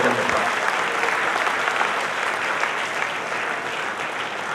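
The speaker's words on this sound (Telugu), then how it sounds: "మాకు ఒకసారి గట్టిగా చప్పట్లతో వినంతో వెల్కమ్ చెప్తారు." An audience at a school function in Nizamabad applauds to welcome a guest with dense, sustained clapping that fills the room evenly from start to finish, with no pauses.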